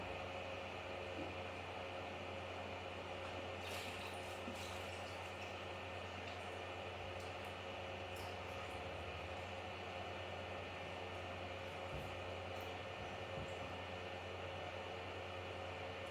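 A constant low mechanical hum of a vacuum pump motor during a saltwater aquarium water change runs steadily throughout, moderately quiet with a faint hiss and a few small clicks.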